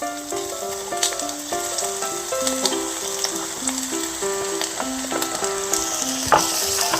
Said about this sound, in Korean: 식용유 두 큰술 둘러주세요. 팬에 코팅하듯이 둘러주시고 양파 넣어주시고요